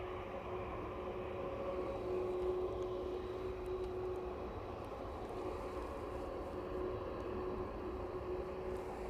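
Aircraft at East Midlands Airport pushing back, a steady distant jet engine drone with a faint whining tone holding constant throughout.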